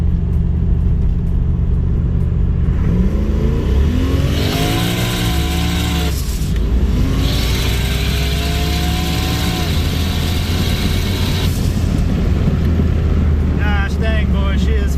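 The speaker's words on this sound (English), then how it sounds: "drive up here where the road straightens out and give it a real hard pull" A Volvo 240 engine revs hard at full throttle and climbs through the gears, loud and close, with a steady rumble underneath throughout.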